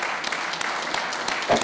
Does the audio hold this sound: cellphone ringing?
no